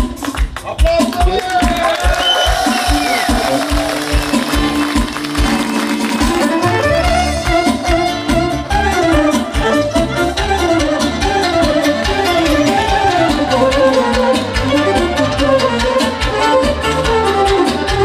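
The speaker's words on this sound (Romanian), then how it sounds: "Aplauze!" Wedding guests at a Romanian wedding clap along loudly, rhythmic applause mixed with crowd noise and band music playing under it.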